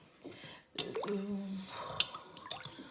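Water being stirred and poured into a cooking pot of broth seasoned with bay leaf, heard up close as soft drips and plops with a brief gurgling pour in the middle, no voices.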